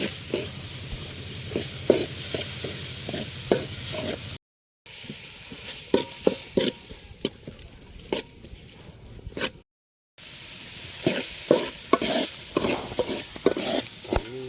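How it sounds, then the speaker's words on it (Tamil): Goat intestine fry is stirred in a pan, with repeated close scraping strokes over a steady sizzle, broken by two brief silent gaps. "நல்லா சுருண்டு வர வரையும் கிண்டிக்கலாம்."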